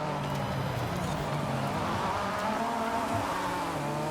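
Buzzing race car engine from the Forza Horizon 5 video game, a Porsche RSR in a race, droning steadily at moderate level with shifting pitch while overtaking another car.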